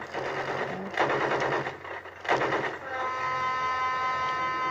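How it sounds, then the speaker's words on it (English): Train passing in the Battlefield 1 video game: a loud rumbling rush with clattering bursts that swells twice, then settles into a steady ringing mechanical drone, with no talking. "I hear a train."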